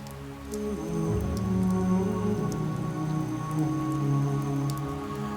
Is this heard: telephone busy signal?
no